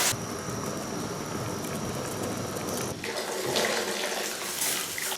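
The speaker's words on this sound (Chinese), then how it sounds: "放到凉水里，给它灌着凉" A kitchen tap runs steadily, pouring cold water over blanched spinach in a bowl, a continuous close splashing stream that shifts in tone partway through as the food is moved under it, with no talk.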